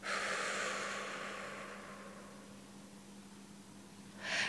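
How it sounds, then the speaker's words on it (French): Slow breath out through the mouth during a relaxation exercise, a soft, close airy exhale that fades gradually, followed by the start of another breath at the end. "et en expirant sur 6 battements de pouls par la bouche"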